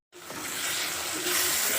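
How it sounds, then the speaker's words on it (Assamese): Spices frying in hot oil for a home-style local chicken curry, a steady bright sizzle that starts suddenly and holds loud and close throughout. "মছলাখিনি ভালকৈ ভাজি ল'লোঁ"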